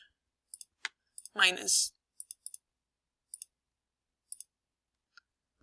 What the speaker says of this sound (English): I'm going to type in my equation, y equals x squared